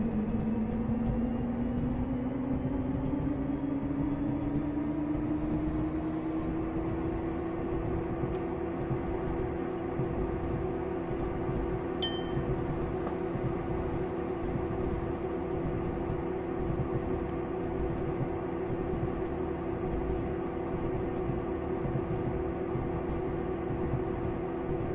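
A Class 55 Deltic diesel locomotive in Train Simulator Classic runs at full throttle, its deep engine drone rising in pitch over the first few seconds and then holding a steady, continuous roar for the rest of the stretch.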